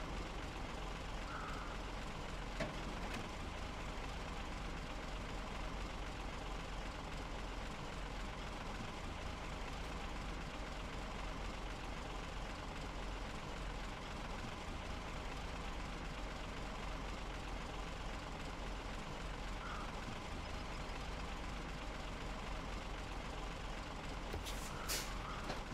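A truck engine idles steadily in SnowRunner, a low continuous rumble that holds even throughout, fairly faint, with a few brief hisses and clicks and no voices.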